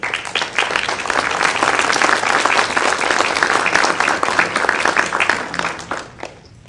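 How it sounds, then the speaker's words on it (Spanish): Loud, dense applause rings out for Dr Dante Añaños at an international bioethics congress in Lima, many hands clapping steadily and close before it fades in the final moments. "Este señor se llama el doctor Dante Añaños, para quien pido un fuerte aplauso"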